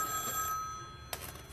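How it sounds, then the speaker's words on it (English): A telephone out in the street rings with a faint, bright electronic trill, with a short burst near the end and no talking. "The phone's ringing."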